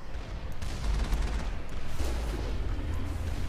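The Mako tank's cannon fires in the Mass Effect video game, with booming blasts and rumbling bursts over a steady noisy bed of battle sound, moderately quiet and without talking.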